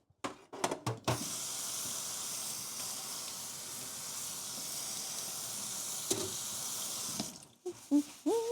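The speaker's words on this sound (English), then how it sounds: "I might as well wash that pan." Running water pours steadily into a kitchen sink while a pan is washed beneath the tap, a continuous hiss broken by a few clinks and handling knocks at the start and end.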